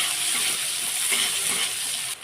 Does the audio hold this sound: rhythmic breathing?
no